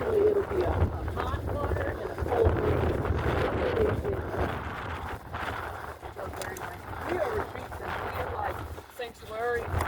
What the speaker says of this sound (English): The wind is super crazy.